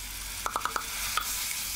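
Minced meat and pepper paste fry in a pan with a steady soft sizzle, while a few quick spoon scrapes of stirring cluster together and then one more follows.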